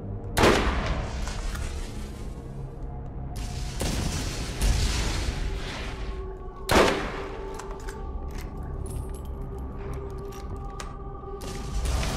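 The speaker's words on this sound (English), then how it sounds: "That's a shitty sniper rifle." A sniper rifle in the video game Borderlands fires several sharp, booming shots, spaced a few seconds apart, each with a ringing tail, over a steady low background of game ambience.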